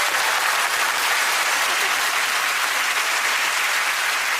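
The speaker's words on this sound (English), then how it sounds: "Let's give a round of applause." Studio audience applause on a television comedy talk show, a loud, dense, even roar of clapping that carries on unbroken throughout.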